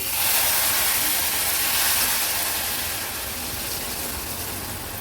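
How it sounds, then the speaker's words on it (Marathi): Boiled water poured into semolina that has been roasted in ghee for porridge, giving a steady loud hiss and gush of steam that eases off slightly over a few seconds, with no talk. "आता एका बाजूला पाणी देखील उकळवून घेतलं आहे ह्याच्यामध्ये आता पाणी ॲड करूया"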